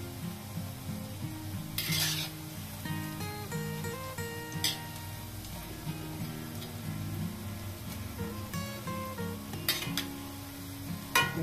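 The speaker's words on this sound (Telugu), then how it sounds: "పకోడీ లోపల వరకు ఉడకాలి కదా, మీడియం ఫ్లేమ్లో ఉడికించుకోవాలి." Pakodi fritters fry in oil over a medium flame with a soft, continuous sizzle, occasional utensil clinks and stirring scrapes, all under background music.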